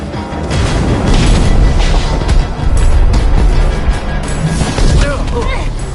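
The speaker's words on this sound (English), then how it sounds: "Fireworks!" Fireworks exploding in Minecraft: Story Mode, a loud, dense run of booms and crackling bursts layered with game action noise and a voice speaking over it.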